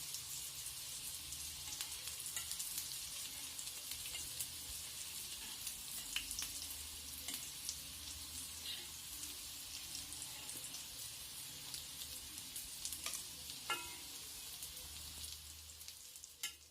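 Chicken cutlets frying in oil, a steady soft sizzle and crackle that continues throughout with occasional faint pops and stirring clinks.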